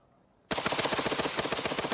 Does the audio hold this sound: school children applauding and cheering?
no